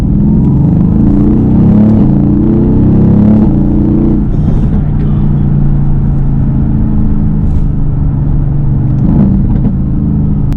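Mercedes-AMG GT engine in Sport Plus mode, heard from inside as it accelerates and downshifts: a loud, continuous low rumble and roar that rises and drops with gear changes, with no talking.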